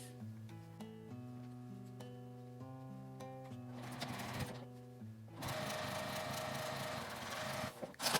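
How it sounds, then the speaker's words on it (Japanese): A sewing machine stitches the lining of a small zipperless smartphone shoulder bag with a 1 cm seam allowance, running as a steady whirring drone close by that grows busier and louder toward the end. "裏布を重ねて1センチの縫い代で縫います。"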